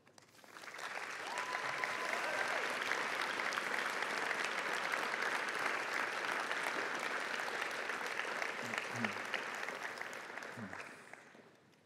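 Graduates applaud the audience at a university graduation ceremony with a long, even wash of many hands clapping. It rises within the first second, holds steady for about ten seconds, then fades out, fairly soft and heard from a distance.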